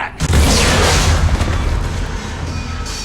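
A bomb explodes in the sci-fi video game Mass Effect 3: a single loud, close boom with a heavy low rumble that decays slowly over about three seconds.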